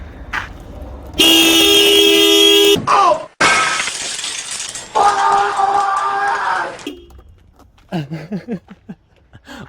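A car horn blares in long, loud blasts, broken by sharp crashing noises, then fades into quieter bursts and rustling, after an Aliexpress horn is wired up on a car.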